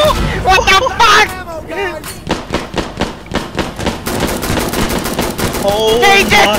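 Rapid automatic gunfire in the shooter game Insurgency Sandstorm rattles in loud, dense bursts with scattered single shots, mixed with excited voices talking over the shooting.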